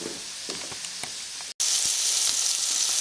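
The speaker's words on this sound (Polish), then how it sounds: "Teraz jak już mamy rybki, to na oleju je rozprostujemy." Small fish laid into hot oil for Greek-style fried marides set off a steady, bright sizzling hiss that swells louder after a brief cut, with faint scraping as the fish are spread out.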